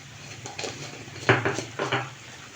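A spoon stirring garam masala into vegetable gravy in a pan for bhindi subzi, producing a few soft scraping clinks of metal against the pan in quick irregular bursts, fairly quiet, with no talk.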